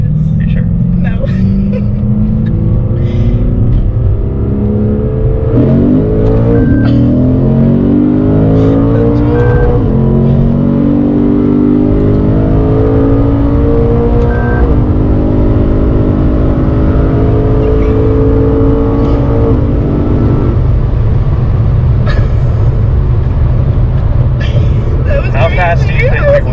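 A 2017 Lexus RC F accelerating hard from inside the cabin, loud engine rising through the gears with rapid pitch climbs and shifts, while people talk and react over it.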